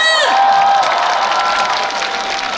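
Festival concert crowd at a university daedongje with a band on stage, a loud, dense wash of clapping and cheering that swells at once and holds steady, with a brief high tonal sweep at the very start.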